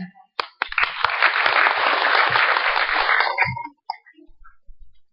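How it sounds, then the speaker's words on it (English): A symposium audience applauds in a steady burst of clapping lasting about three seconds after a brief sharp start, then trails off into a few scattered claps and quiet. "Let's give one more applause for them."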